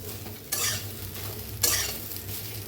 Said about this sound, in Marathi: पहिला असंच थोडी भाजून घेऊया थोडे वेळ, नंतर थोडंसं तेल ओतून भाजून घ्यायची